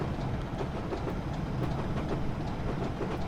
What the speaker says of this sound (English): The rhythm you get off the track joints, when it doesn't lag, is very nice.